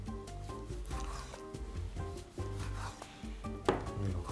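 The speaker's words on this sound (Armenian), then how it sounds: "Ընդամենը կտրատեմ հարմար չափաբաժիների" A knife chops food into pieces on a board with soft irregular cuts and rubbing strokes, close and moderately loud, mixed with light handling noise.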